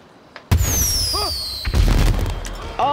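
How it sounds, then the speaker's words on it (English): Loud booming firework blasts from a firework gun in Grand Theft Auto V, with whistling, rising streaks and crackling bursts, several shots in quick succession over the game's background noise. "Oh, it's a firework gun!"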